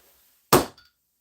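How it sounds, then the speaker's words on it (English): A single sharp metallic strike as a hammer lightly taps out a .32 S&W Short cartridge, close and loud, then a faint rattle and silence. "I need to empty that hammer out so I can lightly tap this one out"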